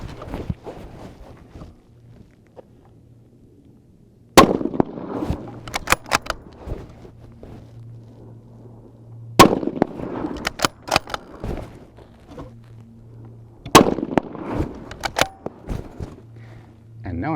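Three loud, sharp Ultima Ratio rifle shots spaced several seconds apart, each followed by quick mechanical clicks of the action, with a steady low hum and quiet handling noise between them.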